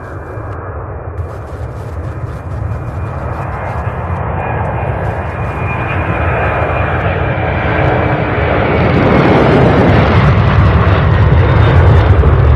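A UPS Boeing 767 jet takes off at Louisville airport, a loud, continuous engine roar that swells steadily and grows louder and more rumbling over the span, with a faint high whine on top.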